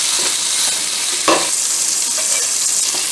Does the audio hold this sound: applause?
no